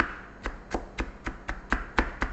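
Garlic being chopped into small pieces on a board for ginataang monggo, about eight crisp, evenly spaced knife strokes, close and distinct with quiet pauses between.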